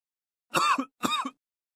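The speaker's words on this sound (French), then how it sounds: "Je tousse un peu" A person coughs twice in a quiet room, two short, close, dry bursts separated by a brief pause, with silence before and after.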